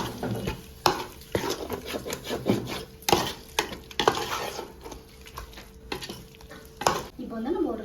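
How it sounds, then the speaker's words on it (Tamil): Prawn biryani masala stirred in a pan over a low flame, repeated scraping and knocking of a spoon against the pot in an irregular rhythm over a light background sizzle, close by. "அடுத்து வந்து சிம்மில் வச்சுட்டு நல்லா மிக்ஸ் பண்ணி விட்டுக்கலாம்"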